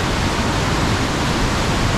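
A fast-flowing river on the Gilgit Skardu road in Pakistan rushes over large rocks, a loud, steady broadband roar filling the whole span with no pauses.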